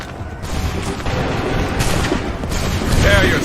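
Dense, continuous musket-style gunfire volley from the Assassin's Creed III video game, a thick roar of overlapping shots with sharper bursts near one, two and a half and three seconds, loud and close throughout.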